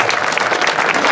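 Loud, sustained applause from a crowd at a mini slalom motorsport prize-giving in Amendolara, Italy, dense clapping filling the whole moment without a break.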